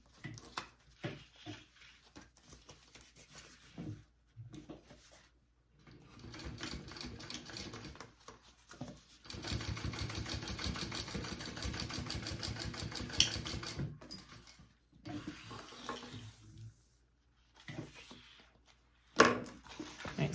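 A sewing machine runs in steady bursts while top stitching two sewn-on fabric pieces of a sling bag, the loudest continuous run lasting a few seconds amid shorter starts, handling noises and pauses.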